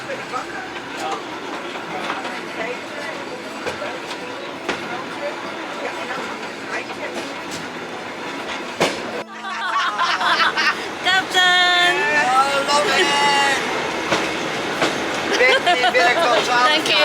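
A vintage train with hard wooden bench seats on a countryside ride in the Netherlands rumbles steadily and grows louder partway through, with people talking over the running noise.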